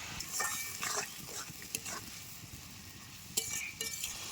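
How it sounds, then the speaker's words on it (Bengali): Ground cumin, ginger, coriander and dry chilli pastes fry in oil in a pan, a soft steady sizzle broken by a few clinks and scrapes of the stirring spoon, fairly quiet and with no talking. "সব মশলাগুলো দিয়ে ভালো করে কষিয়ে নেব"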